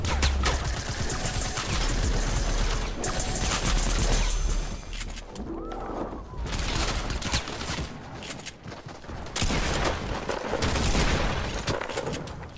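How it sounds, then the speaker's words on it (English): Grenade launcher fire and blasts in Fortnite Battle Royale during a concert event, a loud sustained barrage of booms and shots over dense music with brief lulls. "Someone's firing grenades."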